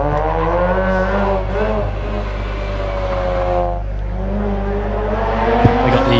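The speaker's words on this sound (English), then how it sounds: "Mazda RX-8 coming through here now." A Mazda RX-8 race car at a hillclimb produces a loud, close engine howl. It climbs in pitch, dips briefly around a gear change, then rises again. A small knock comes near the end.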